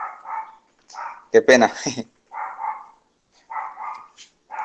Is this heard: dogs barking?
yes